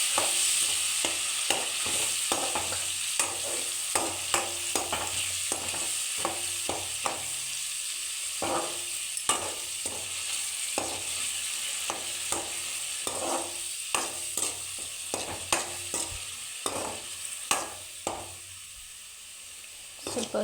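Ground masala paste fries in an oiled pan for masala chitranna, a soft continuous sizzle with steady rhythmic spatula scrapes and taps repeating close by throughout.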